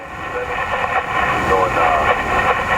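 A freight train rolls past at the Taft rail hotspot in Orlando, a steady loud rumble with faint wheel clatter close by, while a voice speaks.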